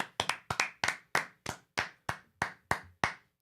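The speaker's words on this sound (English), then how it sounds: "Slow clap." A single person's slow clap, about a dozen sharp, evenly spaced hand claps close to the mic, each ringing out briefly before the next, with no talk.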